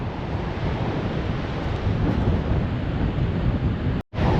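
Atlantic Ocean surf on the Portuguese coast, a steady loud roar of breaking waves mixed with wind buffeting the microphone, cutting out briefly near the end.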